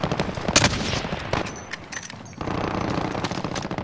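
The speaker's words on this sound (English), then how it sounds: "I'm gonna hit an airstrike on it" Airstrike explosions and gunfire tear through a Call of Duty: Modern Warfare battle as enemies are hit, with dense, loud crackling bursts and sharp blasts running continuously, briefly easing before surging again.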